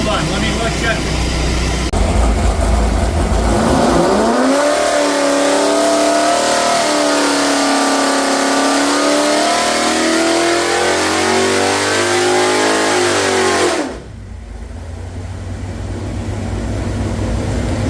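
A 496 cubic inch engine with a Vortech supercharger roars at high revs with its carburetor stuck open, a loud sustained wail that climbs and holds before cutting off sharply, then a lower idle rumble returns; voices speak over it.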